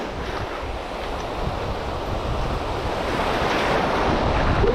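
Steady wind rushes over surf breaking along a sea shore, with a continuous broadband roar of waves that swells slightly louder toward the end, no voices present.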